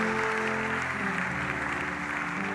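A church congregation claps and cheers in praise during a worship service, a dense, steady wave of applause filling the room throughout.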